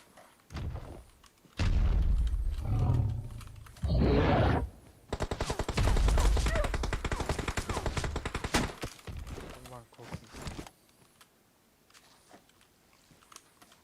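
Gunfire in the mobile battle royale game PUBG Mobile, bursts of rapid automatic fire and loud booming shots over several seconds, with pauses between bursts and a few quieter clicks and rustles at the end.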